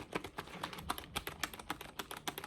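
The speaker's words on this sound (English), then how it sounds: "clicking away at the mouse and pressing keys on the keyboard" Rapid, uneven keystrokes on a computer keyboard in a video game store setting, crisp clicks close by and moderately loud, with occasional heavier key presses and no talk.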